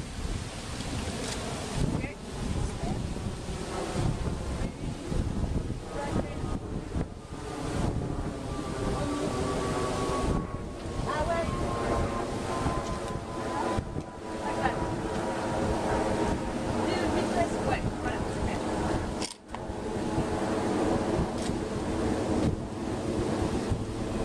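Steady wind buffeting the microphone over rolling surf at a Miami beach photo shoot, a continuous broad roar with waves washing in throughout and faint voices now and then.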